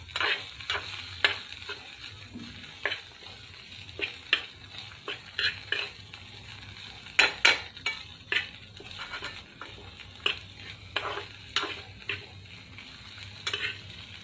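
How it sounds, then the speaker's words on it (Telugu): Okra pieces tossed with red chilli powder in a pan give off a steady low sizzle under repeated scraping stirs and light spoon clinks against the metal, with no voices. "బెండి పీసెస్లో చక్కగా ఈ విధంగా మిక్స్ చేసేసానండి రెడ్ చిల్లీ పౌడరు"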